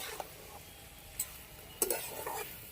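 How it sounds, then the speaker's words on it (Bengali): Spice paste stir-fried with cauliflower stalk curry, a soft low sizzle under a few sharp scraping stirs of a spatula against the pan, fairly quiet and close. "তরকারির সঙ্গে মশলাটা ভালো করে কষিয়ে নেব"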